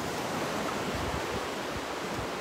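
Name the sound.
sea waves at Deauville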